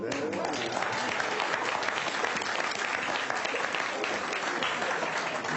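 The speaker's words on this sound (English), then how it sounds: "Let me finish before you clap." Sustained applause from an audience at a book launch for a former Nigerian president: many hands clapping in a dense, even wash that carries on steadily throughout at moderate loudness.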